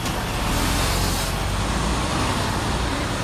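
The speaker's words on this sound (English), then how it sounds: "there's already so many trucks coming tonight, one after the other behind each other." Heavy trucks roll past one after another on a road at night, a steady loud broadband roar of engines and tires close by with no pause, no talking.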